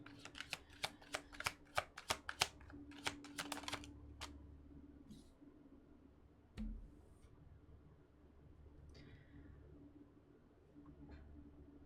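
A rapid burst of crisp riffling clicks as a deck of cards is shuffled, followed by quieter handling sounds and a soft thump.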